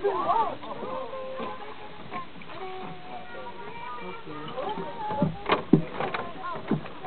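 Paddle strokes splash and knock against a small rowboat on a park boating trip while people talk and call out nearby.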